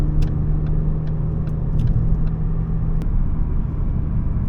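A car cruises along the road in a low, steady engine rumble and road drone heard from inside, constant and fairly loud, with a faint hum and a few light clicks and no speech.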